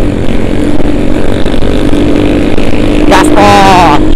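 A Honda Tiger motorcycle ridden fast at night gives a loud, continuous engine roar with wind rush. Near the end, a rising whine sounds over it.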